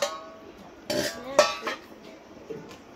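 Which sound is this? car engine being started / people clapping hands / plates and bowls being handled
plates and bowls being handled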